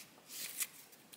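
A small oracle deck of about twenty thin, springy cards riffled by hand in one brief, soft papery burst, close and quiet, with no talking.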